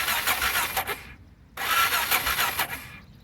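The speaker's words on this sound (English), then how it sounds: "spin the engine over and see if you've got spark" A Honda XR650L motorcycle engine with a suspected faulty CDI box is cranked over by its starter, making two bursts of steady, loud whirring churn separated by a short pause, with no voices.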